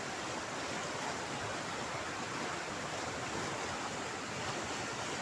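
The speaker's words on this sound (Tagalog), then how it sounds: "Nakakapangilabot yung laki ng baha mga kapilikab." Huge floodwater rushes past in a loud, unbroken roar of churning water that fills the whole stretch with no pauses and no voices.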